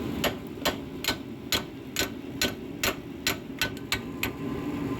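A hammer taps a part on a 1998 Dodge Dakota during driveline maintenance, a dozen or so sharp metallic knocks in a fairly steady rhythm over a faint background hum.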